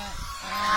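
Geese honking outdoors at a scenic spot where people pose among them for photos, with calls rising and growing louder toward the end over steady background noise.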